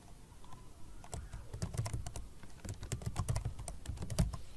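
Steady, close keyboard typing as an email address is entered into a signup form, a dense stream of light clicks and taps over faint room noise, without speech.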